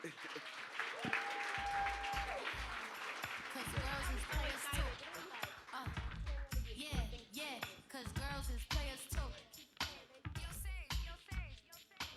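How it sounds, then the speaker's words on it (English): Applause from a conference audience fills the closing moments of a Thanksgiving community event, with a brief tone near the start and voices talking over the clapping through the rest. "Let's give her a big round of applause."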